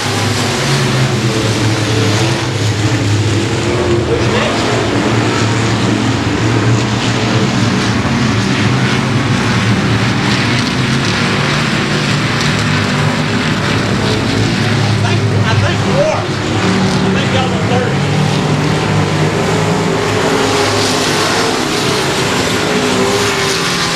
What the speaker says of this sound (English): Green, green, green. Here we go. Street stock racing.